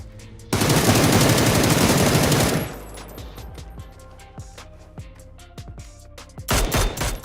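Automatic rifle fire from a competitive esports shooter match rips out in a loud sustained burst, then gives way to scattered single shots and clicks before another dense burst at the end.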